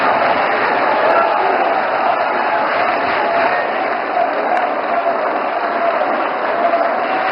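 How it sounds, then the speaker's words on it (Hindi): A large crowd claps steadily at a speech, a dense, continuous wash of applause that holds at the same loudness throughout with no clear voice on top. "पूरे क्राउड ने तालियां बजाना शुरू कर दी"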